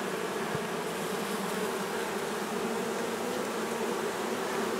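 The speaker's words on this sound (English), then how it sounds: "Super, super gentle bees." A dense, steady hum of many honey bees buzzing together from a colony in a basketball hoop, continuous and fairly loud throughout with no voices.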